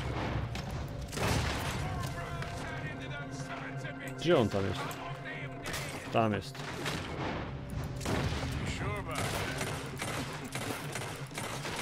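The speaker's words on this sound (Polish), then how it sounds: "Skąd to strzały padają?" Gunfire in the video game Red Dead Redemption 2, a few sharp shots and booms scattered through a busy game soundscape, mostly under steady talk from a player.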